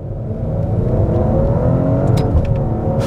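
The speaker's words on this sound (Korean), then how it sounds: "배기음이 상당히 좋습니다" Exhaust of a Maserati Quattroporte GranLusso revving, a loud, close, continuous engine roar that swells and holds with rising pitch, with no speech.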